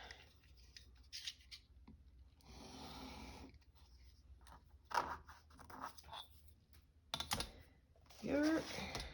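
Paper for a handmade craft card is trimmed right to the edge and then folded, giving close, quiet snips, rustles and creases in uneven bursts with pauses between them.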